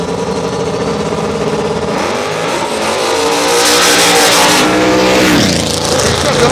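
Two drag race cars, one turbocharged and one on nitrous, accelerate hard in a roaring, high-revving engine blast that builds in intensity, with crowd noise and talk mixed underneath.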